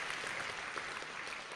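An audience at a church sermon applauds with steady, dense clapping, distant and even, without speech.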